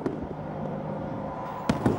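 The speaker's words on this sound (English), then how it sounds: "fireworks marked the start of 2013 in Pyongyang" New Year fireworks in Pyongyang crackle and pop against a dense background roar of a celebrating city, with a couple of sharper, louder bangs near the end.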